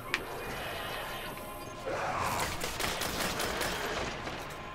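Dense gunfire rattles in the game Destiny during a Dark Below strike, a continuous clatter of shots and bursts at moderate loudness that grows busier partway through, with no voices.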